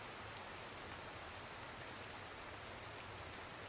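Steady, dense rain falls in the survival game Feral, a constant hiss with no breaks, heard on its own.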